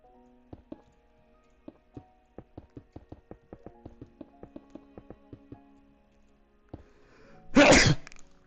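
One loud, sharp human sneeze bursts out near the end, after a run of light rhythmic taps and clicks that sound like keys or a mouse, with no talk.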